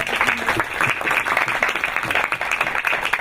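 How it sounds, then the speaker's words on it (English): Audience at the Women in the Health Tech Forum 2025 applauding panelists, a warm burst of many hands clapping at close range, lively and uneven in rhythm, continuing steadily for a few seconds. "Let's applaud the"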